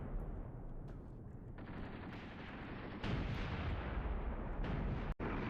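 Tank and artillery fire rumble without pause through an Iran-Iraq War armored battle in a video game, a dense, loud wall of booming shots and blasts that swells partway through and cuts out for an instant near the end.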